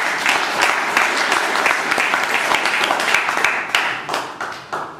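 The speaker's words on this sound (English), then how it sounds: "A round of applause for him." A Toastmasters club audience in Bangalore applauds a confident speaker, giving a sustained round of dense clapping that carries steadily for five seconds before thinning toward the end into a few scattered claps.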